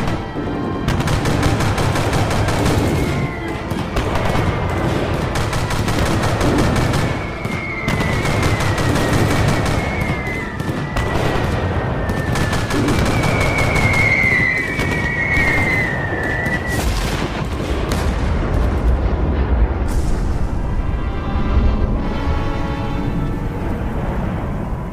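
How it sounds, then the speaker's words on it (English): Heavy gunfire aimed at a big bomb in a Fallout audio drama, dense rapid bursts and booms for about twenty seconds, loud and close, ending in a fading rumble. "Everyone, open fire immediately."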